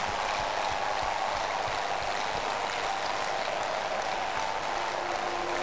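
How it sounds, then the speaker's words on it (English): Congregation at an open-air healing crusade clapping for Jesus, a continuous dense roar of clapping with a faint steady hum beneath it. "Clap for Jesus."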